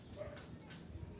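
Kim, a family dog at a simple house, barks softly in the distance in a few short yips under faint background noise.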